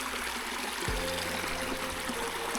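Steady broadband rush of a river fed by a spring, flowing near Bhairavgad (Ranjangad) fort, continuous and fairly close, with no voices.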